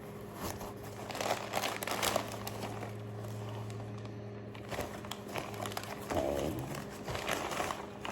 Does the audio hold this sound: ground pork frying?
no